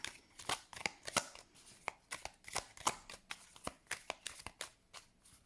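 Tarot cards are shuffled and handled up close, producing a quiet, steady series of crisp riffling flicks and slides with no talk.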